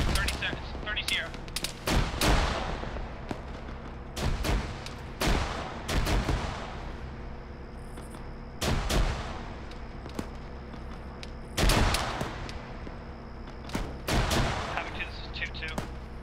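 Loud bursts of automatic and single gunshots ring out in a military video game firefight, the shots spaced in sharp clusters roughly every second or two, with voices talking over a radio between them.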